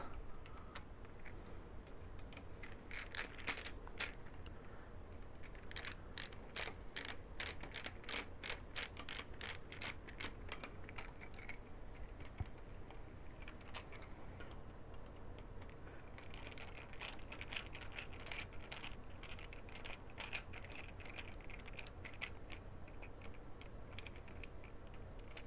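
A screwdriver removes a spool holder from a Zonestar 3D printer in a workshop, giving faint, quiet runs of rapid ratcheting clicks in several bursts.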